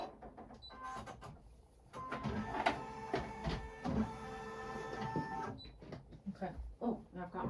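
An embroidery machine stitching a design onto bleached flannel, its whirring, rapid mechanical clatter running steadily for several seconds, with a person speaking around it.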